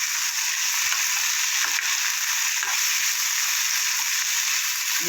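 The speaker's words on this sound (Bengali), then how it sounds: "আমার কিছুটা ভাজা হয়ে গেছে এবার আমি কেটে রাখা অন্য খোসাগুলো আমি দিয়ে দেবো" Pumpkin peels frying in a pan with onion, a steady bright sizzle holding evenly throughout with a few faint clicks of utensils, close and without speech.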